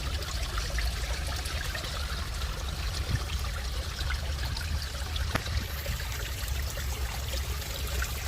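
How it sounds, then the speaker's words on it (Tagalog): Water trickling and splashing among rocks on the shore of Manila Bay, a steady, close, continuous wash with no talk. "pagbagsak ng tubig."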